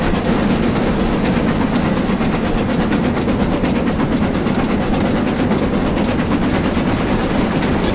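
Train running on rails in the Train Simulator 2016 game, a loud continuous rumble with rapid repeating clickety-clack wheel beats across the whole stretch and no talk.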